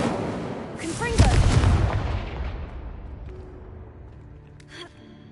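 A Confringo explosive spell cast in the video game Hogwarts Legacy makes a loud whooshing blast that peaks after about a second and rumbles away slowly, with a brief sharper burst near the end and a voice over the start.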